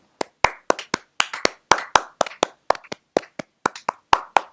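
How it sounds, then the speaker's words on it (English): Sparse, slow clapping from a few people, about a dozen separate sharp claps spaced irregularly and close by, with no talk over them. "Do you need us to clap for you?"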